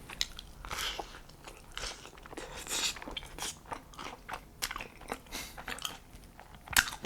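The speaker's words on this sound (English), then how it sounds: "Just hear my lips going, chewing, all those food noises in my mouth." Close, wet chewing and crunching of a slice of pineapple pizza, with repeated bites and mouth noises in an uneven rhythm.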